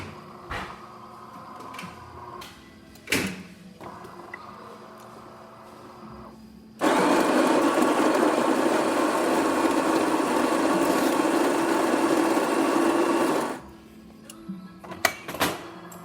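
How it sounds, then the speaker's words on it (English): A De'Longhi Magnifica coffee machine's built-in grinder grinding coffee beans, a loud, steady buzzing whir lasting about seven seconds, framed by clicks and clunks from the machine before and after. "grinder's working."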